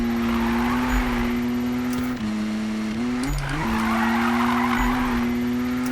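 Handbrake skid of a 2016 BMW M2 in the video game Need for Speed 2015: a steady engine drone with tire scrubbing and a brief dip in pitch near the middle, loud and continuous throughout.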